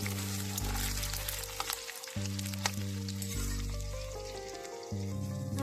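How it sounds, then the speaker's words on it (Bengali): Potato pieces frying lightly in oil already used for frying fish, a steady sizzle that runs throughout beneath a louder, droning tonal background. "আলুগুলো হালকা হালকা ভাজবে বেশি ভাজবে না"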